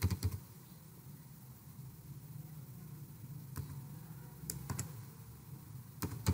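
Laptop keyboard typing Roman Urdu text, sparse quiet key clicks in small clusters scattered over a soft background hum, close by with no talking.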